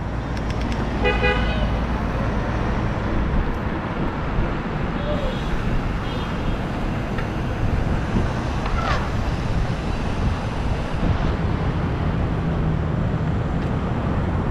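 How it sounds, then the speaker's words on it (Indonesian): A car passes in busy city street traffic in Medan, heard from a bicycle with steady wind noise and traffic rumble, and a horn toots briefly near the start. "Mobil kiri."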